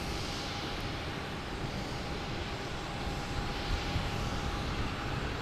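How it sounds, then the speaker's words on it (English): A JetBlue Airbus A321 jet arriving at Boston Logan from San Francisco produces a steady, broad engine roar that holds even and continuous throughout, at moderate distance. "coming in, we have a JetBlue coming in from San Francisco. A321, flight 434"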